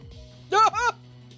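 A dog in the video game Ghost Trick gives two quick, loud barks in close succession, standing out over a steady low game hum, with no talking.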